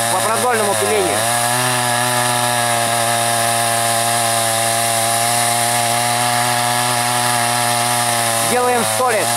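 A chainsaw rip-sawing boards lengthwise, running loud and steady at high revs for most of the stretch, its pitch dipping briefly at the start and again near the end as the chain bites into the wood.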